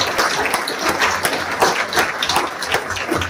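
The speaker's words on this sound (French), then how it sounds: "Je vous demande de l'applaudir." An audience applauds at a New Year's wishes ceremony during a dinner speech. Dense, irregular clapping from a crowd in a hall, moderately loud and steady, with no talking over it.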